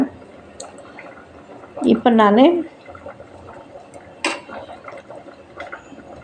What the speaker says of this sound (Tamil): கொஞ்சம் புளி தண்ணி இதில் ஊற்றலாம்